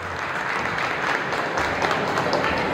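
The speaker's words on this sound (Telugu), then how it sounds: "మళ్ళీ ఒకసారి గట్టిగా చప్పట్లు కొట్టాలి" An audience at a school reunion get-together claps for its teachers in a dense, sustained burst of applause that stays steady and fairly loud throughout.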